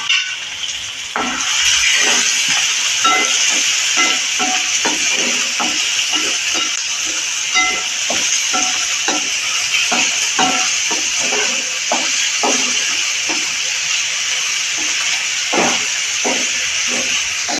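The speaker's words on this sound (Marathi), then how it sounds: "मी आता कांद्यावर सुकी मिरची टाकते आता ती परतून व्यवस्थित भाजून होईल" Dry red chilies fry with onion in hot oil in a pan, giving a loud, continuous hiss and sizzle. Repeated scraping and stirring taps sound through it, close by and without speech.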